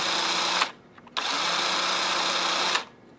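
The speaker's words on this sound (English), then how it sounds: "Okay, that's the chainsaw." A Black & Decker battery-powered chainsaw whirs at steady high speed in two bursts, briefly cutting out in between before revving again, then stopping.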